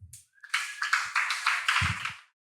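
Warm audience applause for a panelist at a psychedelics panel during SXSW, crisp bursts of many hands clapping close and fairly loud, rising after a brief start and stopping abruptly.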